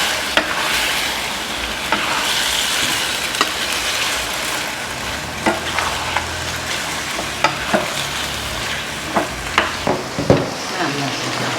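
Vegetables and chili peppers stir-fry with oyster sauce for a Thai beef dish, a loud continuous sizzle close up with repeated scraping clicks of a spatula against the pan.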